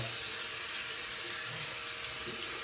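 Cold water runs from a tap into a sink during a wet shave: a steady, close hiss of flowing water holds constant throughout, with no speech.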